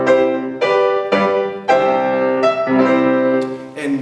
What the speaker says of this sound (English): the French national anthem, that sounds like this